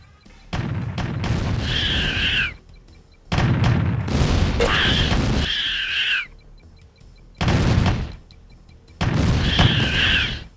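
Turrets firing in the real-time strategy game Command & Conquer: Red Alert, as four loud booming bursts separated by short pauses, each about a second or two long, with high unit voice chirps mixed into several bursts.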